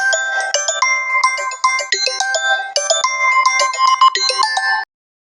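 A mobile phone rings in a village home kitchen with a bright repeating melodic tone, loud and close, playing for about five seconds before cutting off into silence.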